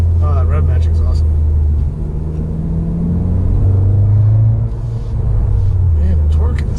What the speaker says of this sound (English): Oh, that rev matching is awesome.